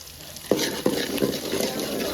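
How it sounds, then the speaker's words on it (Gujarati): Turmeric sizzling in hot oil in a pan while a spoon stirs it, with a steady frying hiss and a few sharp scraping strokes against the pan, close and alone. "તો મસ્ત મસ્ત હળદર પાકી રહી છે"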